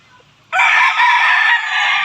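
A gray gamefowl rooster crows once, loud and close, a sustained call lasting over a second and a half after a quiet start.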